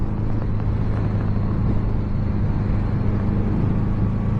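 A 1982 Honda Goldwing 1100 motorcycle cruising on the road, a steady low engine rumble with heavy wind buffeting throughout and no talk.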